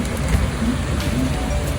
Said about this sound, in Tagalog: So ayan, ulan na naman, no? Buhos na naman ang ulan.